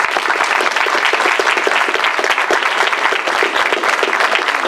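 Loud, dense applause from a large audience at a political panel event in Malmö, steady sustained clapping throughout.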